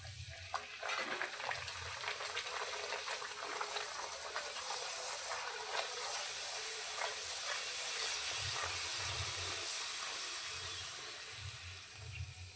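Ragi puri frying in hot oil gives off a steady, close sizzle and hiss that holds through the whole stretch and eases off slightly toward the end, with no talking.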